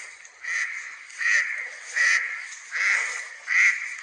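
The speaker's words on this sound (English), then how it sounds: "There's a loud duck over there," A loud duck quacks near a group of geese on the grounds of Kettringham Hall, giving five evenly spaced, raucous calls in a steady rhythm, close and clear with no talking.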